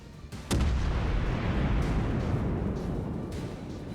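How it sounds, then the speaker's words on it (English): Des Moines cruiser in a naval video game opens fire on a battleship: a sharp, loud gun blast lands after a brief lull, then a sustained rumbling roar of artillery and distant booms continues steadily, with no talking. "So I begin firing on the Ismo."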